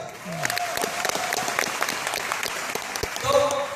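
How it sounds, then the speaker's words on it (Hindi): Loud audience applause at a motivational talk on success, steady dense clapping with voices and a brief tonal sound rising near the end. "इतने जोरदार तालियां"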